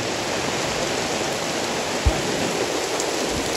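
A heavy downpour drums on a tent during a fishing trip, a steady dense hiss with one dull thump partway through.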